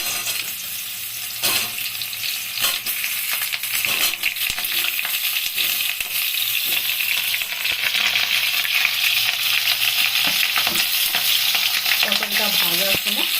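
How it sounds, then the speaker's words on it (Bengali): Pointed gourd pieces dropped into hot oil in a home kitchen pan, giving a steady, loud frying sizzle with stirring scrapes throughout, close by and with no talking. "তো এবার তেল গরম হয়ে গেছে, এই অবস্থায় আমি পটলগুলো দিয়ে দিব"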